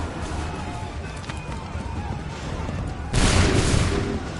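Redcoats fire a musket volley in Assassin's Creed III: a low battle rumble builds, then one loud, sharp broadband blast erupts near the end and rings out.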